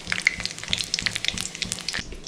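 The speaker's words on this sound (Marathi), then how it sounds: "जिरा चांगलं तडतडायला द्यायचं" Cumin seeds and a bay leaf splutter in hot oil in a kadhai, with rapid close crackles and pops over a steady sizzle and no talk.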